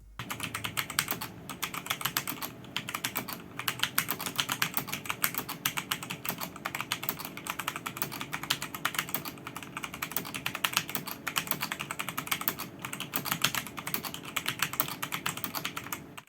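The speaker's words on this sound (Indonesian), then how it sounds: "Berikut ini suara dari switch OTMU Brown." Steady typing on a Rexus Legionare MX9 Pudding hot-swap mechanical keyboard fitted with OTMU Brown switches, a continuous close run of soft, rapid key clacks with no voices.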